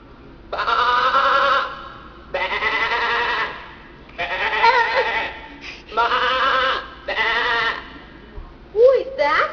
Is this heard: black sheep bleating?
yes